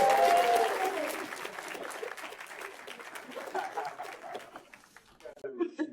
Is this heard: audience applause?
yes